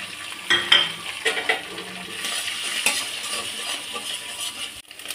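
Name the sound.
carrot and egg frying in a pan for fried rice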